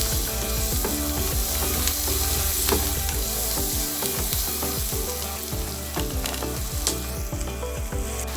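White onion frying in a pan, a continuous close sizzle with clinks and scraping of stirring throughout.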